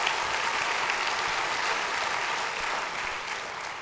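An audience at a lecture on climate and democracy breaks into steady, dense applause that holds fairly loud for about four seconds and eases slightly toward the end, with no voices over it.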